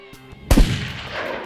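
A single loud rifle shot while hunting a ram outdoors, sharp and close, cracking out after a quiet moment and trailing into a long, fading rumble across the terrain.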